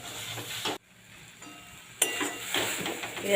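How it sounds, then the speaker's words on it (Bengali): A spoon scrapes and stirs mango cooked in sugar in a pan, with soft sizzling alongside. The movement is close and continuous, and it breaks off briefly with a short near-silent gap before the stirring resumes. "এইভাবে আরও চার পাঁচ মিনিট আমি নেড়ে চেড়ে করে নেব অনবরত নাড়তে হবে"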